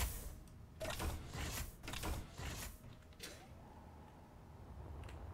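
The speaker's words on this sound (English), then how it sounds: "Moving on through here, we have the airlock." Airlock door cycling aboard a warship in the video game Space Engineers, several creaking mechanical surges that rise and fall, followed by a quieter steady hum, moderately faint with no voices.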